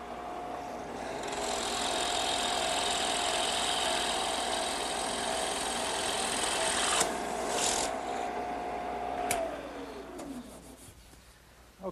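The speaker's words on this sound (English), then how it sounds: "I just put a 1-inch bit in my drill press." A drill press spins a 1-inch bit through wood, boring a hole for a candle stand's column brace: a steady motor whine with rasping cutting noise for about nine seconds, then the pitch winds down as the machine stops.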